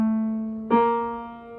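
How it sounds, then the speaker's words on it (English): Two sustained musical notes sound in turn, the second a semitone higher than the first, clear and alone, each ringing with rich harmonics. "the smallest distance between 2 notes is what we call a semitone"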